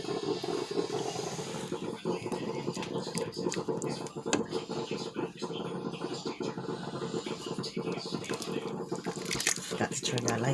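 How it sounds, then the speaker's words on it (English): Soup broth ladled into a bowl over noodles for a vegan Puerto Rican chicken-style noodle soup, a continuous close splashing and pouring that runs under steady talk. "I'm just going to ladle the soup in now."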